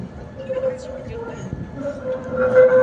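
A number 5 tram rolls past along the Vltava embankment in Prague, a steady rumbling hum with a faint whine that grows slightly louder toward the end, while people talk nearby.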